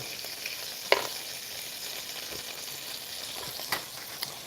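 Beef sizzles steadily over a grill, a close, continuous crackle of frying fat with a few sharp pops and a clink of a utensil now and then, and no speech.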